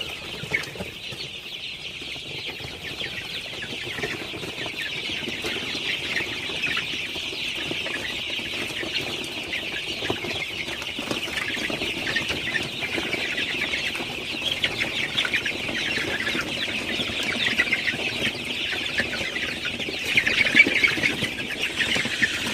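A flock of chickens clucks and murmurs steadily at night, forming a dense continuous chatter with occasional louder squawks and no one talking.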